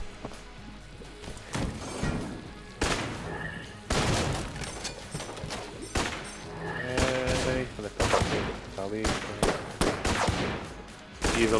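Rapid gatling gun fire in the top-down shooter Enter the Gungeon, loud bursts of shots mixed with impacts and game effects, with bits of talk in between.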